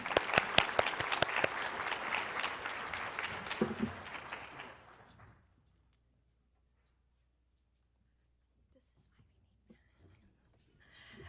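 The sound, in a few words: audience applause for award winner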